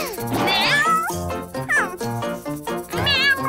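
A high, cartoonish kitten meows several times over bouncy music, the mews sliding up and down in pitch.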